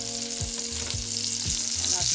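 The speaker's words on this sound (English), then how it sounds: "I took my hot dogs and I'm just frying them just a little bit in the avocado oil." Hot dogs fry in avocado oil with a steady, close crackling sizzle, broken by a few soft scraping stirs of a utensil in the pan.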